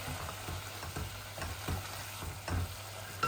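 Potato pieces frying in hot oil, with continuous close sizzling and crackling, broken by repeated stirring scrapes of a spoon in the pan.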